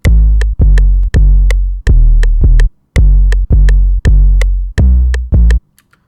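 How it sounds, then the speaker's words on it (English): A loud, booming 808 bass in an FL Studio trap beat plays. It comes as long sustained notes that stop abruptly, with thin hi-hat ticks above, and near the end it cuts off to near silence. "So this is the main 808 that I use throughout the track."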